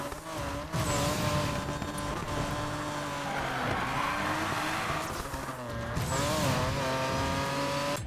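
A race car engine roars and accelerates in Need for Speed Payback, the game's M3 driving hard with steady high revs, shifting pitch and faint tire noise throughout, loud and continuous with no talk.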